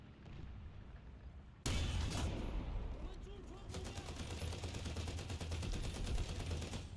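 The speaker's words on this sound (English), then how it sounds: "This machine gun sounds like a 50 cal for some reason." A heavy video-game machine gun with a deep, 50-cal-like report fires in sustained bursts, loud and close, with rapid repeated shots over a rumbling low end after a quieter start.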